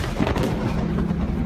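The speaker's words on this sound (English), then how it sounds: "the blast decimating the wall" A chemical warehouse explosion in Tianjin, caught on surveillance, comes through as a dense, sustained low rumble with crackling bursts, loud and continuous throughout.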